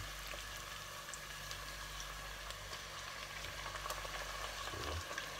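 Soft, steady sizzling of turkey strips frying in a pan, close and continuous, over a low background hum.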